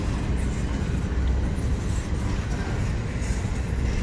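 Two freight trains, one FEC and one BNSF, pass each other in Jacksonville with a steady, loud rumble of rolling cars and faint rail clatter that never lets up.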